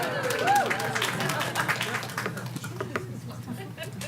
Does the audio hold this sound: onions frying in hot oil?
no